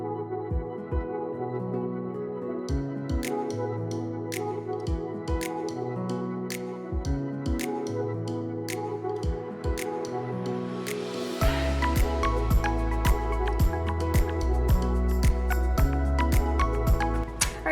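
Roofers working on a shed roof nearby, with irregular sharp knocks and taps in the background, growing louder and busier partway through alongside a steady low hum.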